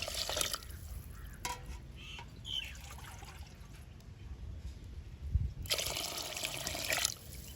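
Water is poured into a pot for Jaffna-style village crab rasam, a faint trickling splash in short bursts, louder at the start and again near the end, with quiet outdoor ambience and a distant bird between.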